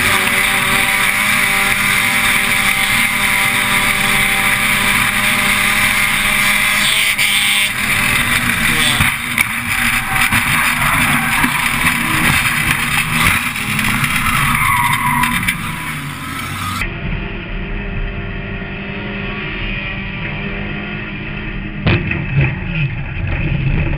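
Compact front-wheel-drive race cars at Winchester Speedway pile into a crash on the backstretch, with loud engines, skidding and rough impacts under excited commentary, fading to quieter running engines.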